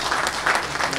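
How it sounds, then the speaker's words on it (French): A crowd at an outdoor official ceremony commemorating 8 May 1945 claps steadily, dense applause filling the whole moment at a consistent, fairly loud level. "On applaudit très fort"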